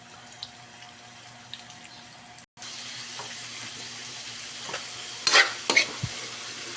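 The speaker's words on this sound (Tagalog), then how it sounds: "Prito tayo ng chicken fillet." Chicken fillet fries in dark oil in a black pan, a steady hiss that jumps louder after a brief gap, with a couple of sharp spattering bursts near the end.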